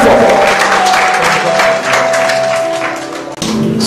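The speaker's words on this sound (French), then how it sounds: "Applaudissements très très fort." Loud, close applause at a wedding celebration, rapid clapping from a crowd mixed with background music and shouting, continuing steadily throughout.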